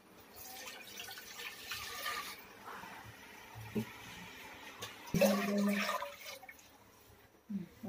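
Water pours into a metal pressure cooker in a few splashing bursts, with clinks of the vessel between pours, close by and without speech.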